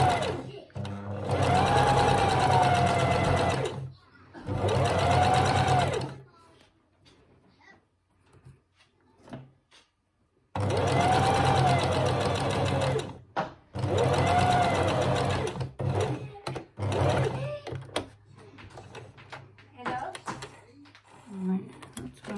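A sewing machine runs short-stitch seams on fabric for a toy bunny, two sustained whirring runs of a few seconds each with quiet pauses between them. Softer bumps and handling noises follow.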